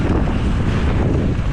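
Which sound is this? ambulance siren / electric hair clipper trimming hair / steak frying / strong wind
strong wind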